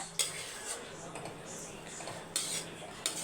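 A spoon mixes mint rice tempered with onion, cinnamon and cloves in a metal pan, giving three sharp clinks against the pan over a soft, steady scraping of rice.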